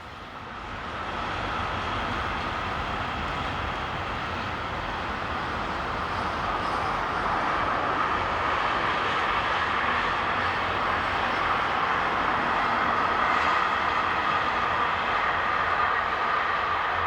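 Locomotive 182522 hauls a long freight train from Verona to Padborg along the Northeim–Hannover main line in Germany, a steady, loud rolling roar of wagons on rails that builds quickly and holds for the whole pass.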